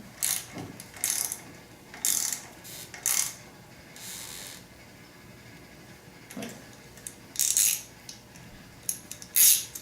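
Wrench ratcheting on a bolt of a BMW R65 motorcycle brake distributor block: bursts of quick metallic clicking, close and fairly loud, separated by pauses, with no voices.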